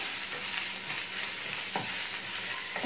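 A coriander, turmeric and red chilli powder masala being stirred and roasted in a kadhai, a steady close sizzle with soft scraping strokes of a spoon running under it, no talking.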